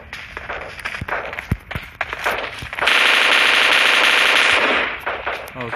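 Gunfire in the mobile battle-royale game PUBG Mobile Lite: a few sharp single shots, then a long, loud automatic burst lasting about two seconds before fading back to scattered shots.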